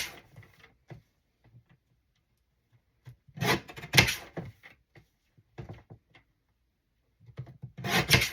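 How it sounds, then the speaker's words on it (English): A paper trimmer cutting paper for a handmade envelope and page-pocket craft, heard as a few short rasping slides and clicks, close and quiet, separated by long near-silent gaps. "Let's get the good choppy trimmer. And then trim a little bit."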